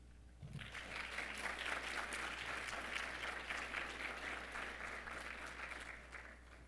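Audience applause rises right after a speaker is introduced at a Phi Theta Kappa induction ceremony in 2016, a steady, dense clapping that holds loud for several seconds before tapering slightly.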